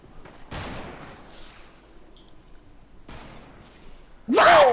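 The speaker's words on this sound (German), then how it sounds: "Michael schießt noch auf mich." Gunfire in the video game Fortnite: two bursts of sharp shots roughly two and a half seconds apart, then a louder, denser blast at the end, with a person's voice heard alongside.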